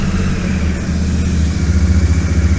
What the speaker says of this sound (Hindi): तो अपन लोग इसका इंजन स्टार्ट कर लेते हैं